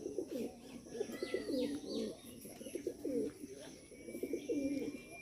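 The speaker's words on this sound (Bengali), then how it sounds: "আরও এই যে কবুতর আছে, সব কবুতরে আদার খাইতে আছে।" Bombay and green-necked pigeons cooing in soft, repeated throaty phrases, close but quiet, with faint chirps in the background.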